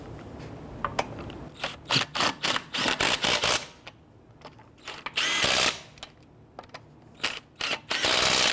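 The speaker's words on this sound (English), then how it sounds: "When tightening down the lug nuts, you want to do it in a crisscross pattern." Ratchet tightening lug nuts on a front wheel of a 2011-2017 Nissan Quest, heard as close, loud bursts of rapid clicking in short repeated runs with brief pauses between them.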